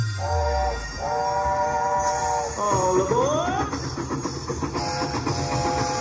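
Electronic train sound effects from an All Aboard slot machine: synthesized whistle tones and rolling clatter, with a rising chime-like flourish, loud and close.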